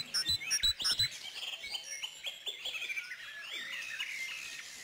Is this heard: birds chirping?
yes